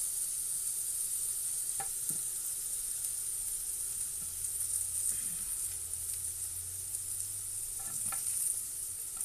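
Onions sizzling in a frying pan on an indoor stove, a steady, quiet hiss of frying with occasional soft knocks of stirring and no talking.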